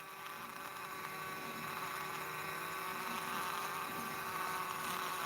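Honeybees buzzing among flowers in Kyiv, Ukraine: a faint, steady hum of many wings, continuous and even throughout, with no voices.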